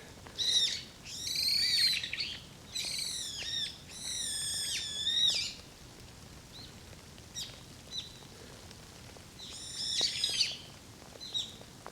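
Brown-eared bulbuls give loud, shrill squealing calls in several bursts, with pauses and softer chirps between, fairly close in a quiet mountain setting between Bongsusan and Gwangdeoksan, South Korea.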